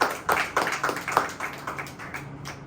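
A group claps hands together during a Tamil church Bible lesson, a steady run of soft rhythmic claps fading toward the end.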